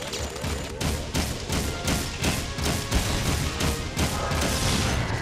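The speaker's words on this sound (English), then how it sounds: "I'm just gonna fire like a madman right now" Gunfire in Jak 3 rattles in rapid sustained bursts, loud and close, with dense repeated shots and crashes filling the scene.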